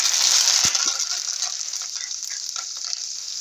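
Cumin, mustard seeds and curry leaves sizzle loudly in hot oil as a tempering for a Marathi puffed-rice chivda, with a brisk crackling hiss at first, a few sharp pops, and a slow fade as the sputtering settles.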